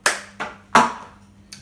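In a Pass the Cup music game, a few sharp close claps and cup knocks land on a table in quick rhythm, each a crisp hit with a short decay, and no voices.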